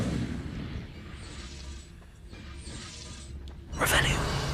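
An Incendio fire spell is cast in Hogwarts Legacy, bursting with a loud fiery whoosh near the end after a quieter stretch of ambient game sound.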